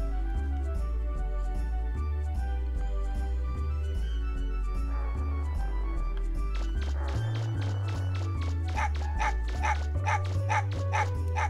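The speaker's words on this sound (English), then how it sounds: "Tron is being scared by the dog" A dog barks in the video game Megaman Legends, short game-audio yaps repeating over a loud, steady rhythmic music track and lasting through the whole stretch.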